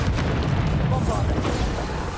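Bombarda, the explosion spell in the video game Hogwarts Legacy, booms with a dense, loud low rumble that carries steadily through the whole short stretch, with other game sounds layered over it.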